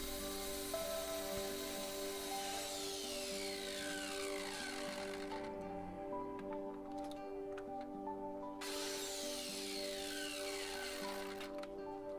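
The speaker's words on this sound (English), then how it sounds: "And then I'll just cut them on my compound miter saw." Compound miter saw cutting through scrap wood, a steady loud motorized whine with two cutting passes, the blade load rising then easing, with a short lull between cuts.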